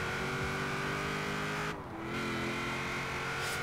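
Honda NSX engine in Forza Horizon 4, a steady, loud drone that dips briefly in the middle before resuming at full strength.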